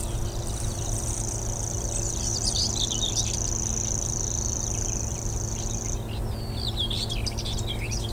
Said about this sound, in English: So you've got the reeling of the grasshopper warbler in the background.